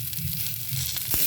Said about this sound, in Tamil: வெங்காயமும் நல்லா பிங்க் ஆகிற வரைக்கும் வதக்கிக்கோங்க.